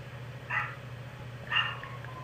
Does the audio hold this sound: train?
no